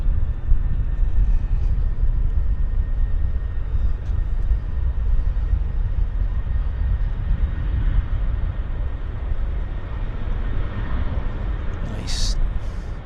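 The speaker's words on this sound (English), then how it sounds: "WestJet's on the roll." A WestJet airliner at Vancouver Airport rolls down the runway on its takeoff run, a steady, distant broadband jet roar that holds level throughout without any distinct peaks.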